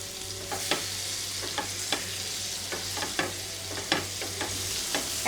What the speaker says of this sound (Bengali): এগুলো একটু এমন করে দেবো, তাহলে ভাজা ভাজা হয়ে যাবে।